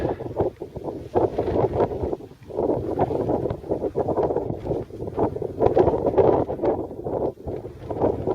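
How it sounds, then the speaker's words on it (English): Wind gusts buffet the microphone on a high viewpoint above Loch Ness along the Great Glen Way in April, a loud, continuous broadband rush that swells and dips in waves, with brief lulls between gusts. "I'm hoping this time there's less wind, but it's still gusting."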